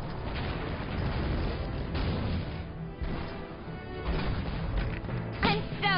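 A lobbed shell exploding in the war strategy game Valkyria Chronicles, a dense rumbling blast continuing under battlefield noise with further crashes and a bright burst near the end.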